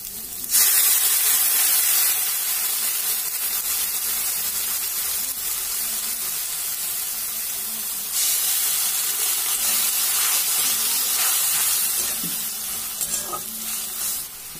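Mustard, ginger and coriander paste hitting hot oil in a frying pan for a snail curry, a loud sustained sizzle and hiss with scraping stirring, flaring up again partway through.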